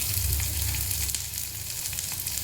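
Capsicum sizzling in a hot pan with chopped green chillies and onion for a mixed-vegetable paratha filling, a steady close frying hiss with no voices.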